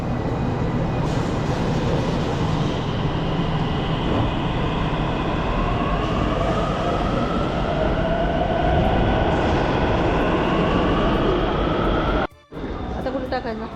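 A metro train rumbles steadily and loudly from inside, with a rising whine as it moves, then a brief drop and resumption near the end; no clear talk.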